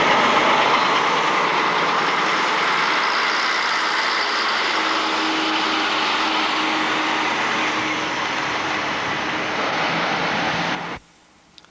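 A Volvo bus passing by, a loud continuous engine and road rumble held close for several seconds before cutting off abruptly near the end.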